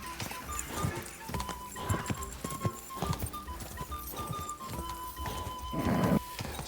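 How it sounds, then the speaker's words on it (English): Hooves of a video-game horse galloping in a rapid, steady clip-clop that stays close and fairly loud, with a brief neigh, over a low bed of game ambience. "Your horse nearly trampled me!"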